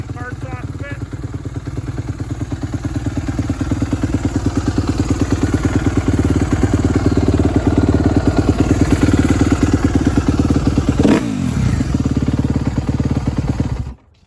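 The engine of a 2016 Suzuki RM-Z250 dirt bike runs loud and close with a steady rapid two-stroke-like pulsing idle, then cuts off abruptly near the end, leaving near silence.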